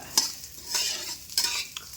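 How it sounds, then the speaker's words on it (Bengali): Moong dal frying in a pan: repeated scraping stirring strokes, about four in two seconds, over a soft close sizzle, with no voices. "মুগ ডালের খিচুড়ি হবে"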